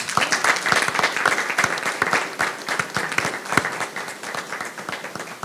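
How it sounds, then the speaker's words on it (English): An audience at a school board meeting applauds graduates who received their college credentials, sustained crisp clapping from a sizable crowd, fairly near and even throughout. "That's something to clap for."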